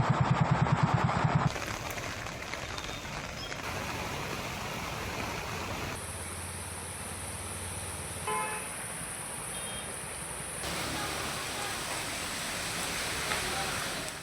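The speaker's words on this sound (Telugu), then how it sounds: "తిరుమలలో వర్షం దంచికొట్టింది." Heavy rain pouring down in Tirumala, heard as a steady, dense, broadband roar that continues unbroken for the whole stretch at a moderate distance.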